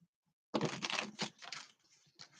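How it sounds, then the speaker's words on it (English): Tarot cards being shuffled four times by hand, a burst of dense riffling flutters and slaps, loud and close, then trailing off into lighter card rustles with no voices. "We'll give 4 shuffles."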